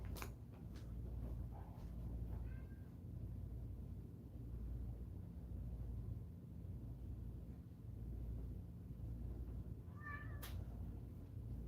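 A house cat gives a couple of faint, short meows against a low steady indoor rumble, one early and a clearer one near the end, with long quiet stretches between.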